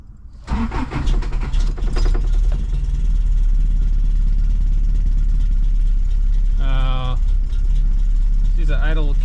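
A Toyota 4x4 camper's engine runs at a low, steady idle close by, with a brief start-up flutter at the beginning and people talking over the rumble.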